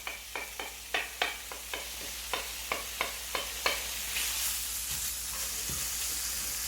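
Pancetta sizzles in a pan without added oil. A run of sharp, regular clicking taps from a utensil plays over a steady hiss, then gives way to a brighter frying sizzle.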